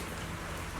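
Steady rain falling in Zenless Zone Zero, a dense close hiss of drops pattering on surfaces with no voices.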